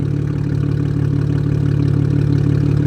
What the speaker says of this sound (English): listen to how loud it sounds like just on idle